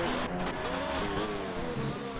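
F1 2019 race cars from a video game, running at the Bahrain Grand Prix: a steady, loud engine whine with rising and falling pitch as the cars race past, constant throughout with no talk.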